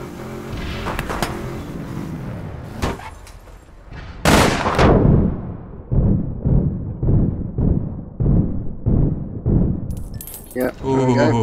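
In the online shooter APB Reloaded, a loud sniper shot cracks out, followed by a steady series of gunshots. Someone talks during the firing.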